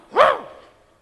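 A voice imitates a dog's bark, giving one short, loud yelp-like woof that fades quickly, heard alone without other talk.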